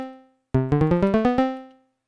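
A quick run of bright Digitakt II synthesizer notes climbing and falling in a melodic minor scale, about nine short plucked tones in steady rhythm, clear and close.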